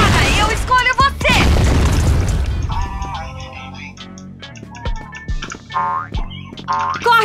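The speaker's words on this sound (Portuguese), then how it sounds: "Granada, eu escolho você!" Grenade explosion in the shooter game CrossFire, a loud booming blast over the first few seconds, followed by quieter game effects, sharp pops and chirpy sounds.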